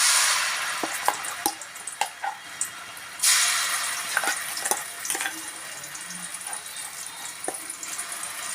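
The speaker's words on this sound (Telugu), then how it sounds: "ఇది బాగా నూనెలో వేయించాలండి" Ground raw bitter gourd chutney paste frying in oil in a kadai, a steady broad sizzle with scattered crackles and pops running throughout, close by.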